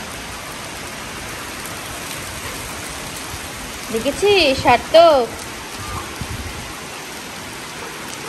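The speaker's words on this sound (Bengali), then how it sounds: "কতদিন পরে বৃষ্টি।" Steady rain falling outdoors after a long hot spell, a dense even hiss throughout, with a person speaking briefly over it midway.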